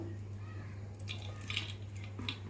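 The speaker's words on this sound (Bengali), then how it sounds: "এবার তেল দেব" Cooking oil pours onto a hot tawa for frying fish, giving a brief liquid trickle and a few light spattering drips over a steady background hum, close by and fairly quiet.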